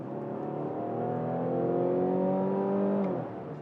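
The naturally aspirated gas engine of a 2023 Mazda CX-60 plug-in hybrid revs from the cabin in one smooth rising pull that holds for about three seconds and then drops off, with no voices over it.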